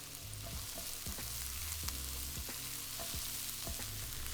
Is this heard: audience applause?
no